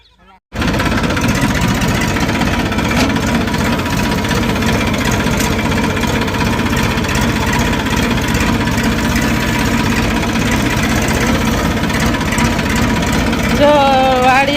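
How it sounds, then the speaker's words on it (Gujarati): A steady, loud engine drone runs nearly the whole time after a brief quiet start, with a rough, chugging low rumble like a tractor idling nearby. "એમાં પ્રિતેશભાઈને તો ટ્રેક્ટરમાં બેહવું હોય"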